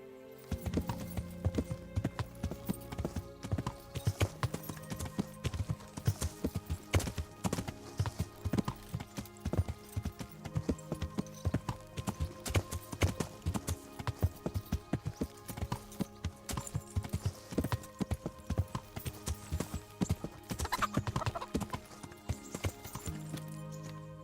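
Horse hooves clip-clop in a steady, brisk rhythm throughout, fairly close, with a faint whinny and game-like background tones, from the video game Kingdom Come: Deliverance.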